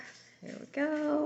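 A feisty puppy whimpers and whines in short high-pitched bursts, rising into a louder tonal whine near the end, with a brief spoken phrase over it.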